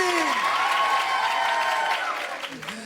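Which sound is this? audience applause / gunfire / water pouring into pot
audience applause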